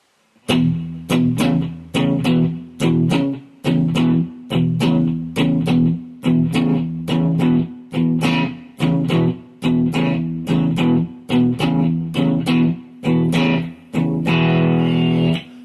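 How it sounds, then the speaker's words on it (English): A distorted electric guitar chugs through a repeating blues shuffle riff on the bottom two strings in E, in a steady, loud rhythm, with bright strummed accents ringing out at the end. "Now I'm going to show you how to play what is certainly the most common blues riff you'll ever hear."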